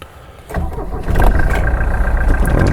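A 1979 Mercedes 240D W123 diesel engine cranks briefly, catches and settles into a loud, close, steady clattering idle.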